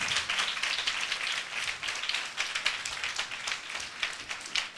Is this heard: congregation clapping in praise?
yes